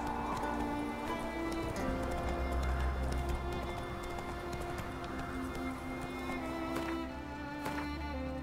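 A horse gallops in The Witcher 3, its rhythmic hoofbeats steady and fairly faint under the game's ambient music and background sound.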